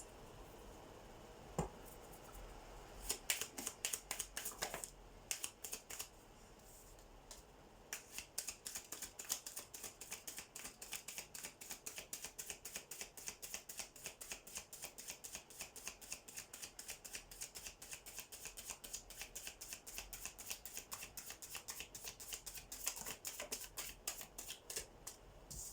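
Tarot cards being shuffled in rapid, crisp riffling bursts, a dense run of papery clicks that continues for most of the stretch, close and fairly quiet with no talking.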